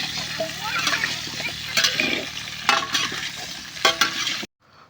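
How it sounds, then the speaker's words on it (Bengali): Cut potatoes fry in oil with salt and turmeric in a pot at an outdoor village picnic, a steady sizzle with scraping stirs and splashy bursts, then abrupt silence at the end. "আলুগুলো ভালো করে লবণ, হলুদ এবং তেল দিয়ে ভালো করে ভেজে নেওয়া হলো"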